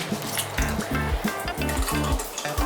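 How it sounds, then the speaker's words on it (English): Water poured onto chopped onion, garlic, olive oil, salt and pepper in a blender cup, a steady loud liquid splash with a few faint clinks, no talking over it. "now I'm going to add a little water."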